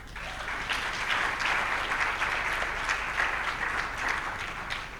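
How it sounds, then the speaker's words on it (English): Sustained audience applause at a Nigerian policy forum, steady and dense across the whole span with no voices over it. "If you support this call, clap."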